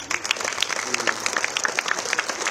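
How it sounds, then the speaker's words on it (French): Enthusiastic audience applause honours medical staff, including motorcycle nurses, at a presentation of the Guadeloupe cycling tour; brisk, dense clapping with distinct individual claps standing out throughout. "Je vous demande de les applaudir."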